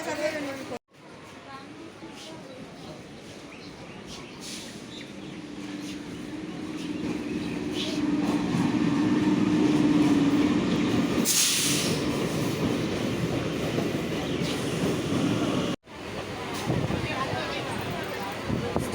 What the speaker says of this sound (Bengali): কাটোয়া যাওয়ার ওদিকে হাওড়া যাওয়ার ট্রেন